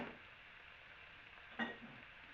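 Noodles for a vegetarian chow mein drop into a hot pan with a soft, steady sizzle, quiet and close, broken by a brief clatter partway through.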